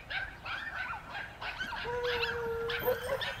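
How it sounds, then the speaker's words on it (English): A dog barks repeatedly at a railroad hi-rail inspection truck beside the tracks, short yips and barks with a whining, howl-like tone, fairly close against outdoor background noise. "barking at the high railer because he doesn't know any different"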